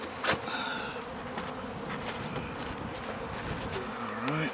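Bee or wasp buzzing near a failing beehive during an inspection, a steady, fairly faint insect drone that lasts throughout, with a few brief clicks and a small bump near the start.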